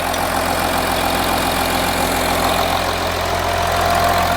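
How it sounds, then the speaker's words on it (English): An Audi Q7 engine idles steadily up close after a water pump replacement, a constant low rumble with a faint rhythmic knock and no voices. "as you can hear, the engine is running"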